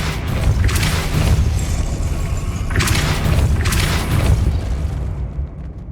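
Depulso spell cast in the Hogwarts Legacy video game: deep, rumbling booms rise and fade twice over a continuous low roar, with no voices.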